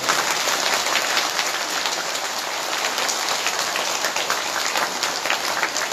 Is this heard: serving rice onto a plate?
no